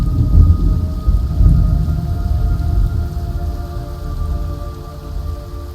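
A deep, continuous rumble of thunder rolls under steady rain in the video game Metal Gear Solid Delta: Snake Eater, loud and close, with a low droning hum throughout.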